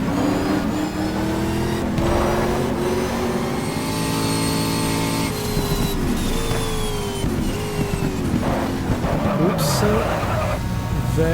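A GT1 race car with a six-speed gearbox screams around Circuit Gilles Villeneuve in the GTR2 racing game, engine revving up and down through gear changes with brief tire squeals, loud and continuous.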